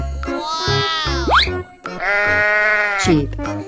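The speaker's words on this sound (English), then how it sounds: "Sheep." A cartoon sheep bleats in a loud, wavering, drawn-out call, repeated twice with springy sound effects, alongside a spoken voice.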